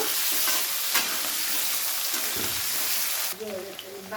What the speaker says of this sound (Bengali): প্রথমে আলুটা দিয়ে আলুটাকে হালকা নেড়ে চেড়ে একটু ভেজে নেব